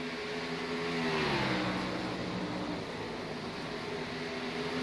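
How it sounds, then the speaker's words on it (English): Race car tires screech under hard braking into turn three at Rockingham in a sim racing game, a loud sustained engine roar with a high squealing band over it, steady throughout. "You could just hear the tire screaming as he dumps it down into turn number 3"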